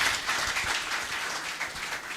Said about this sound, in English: I think that deserves a round of applause once again.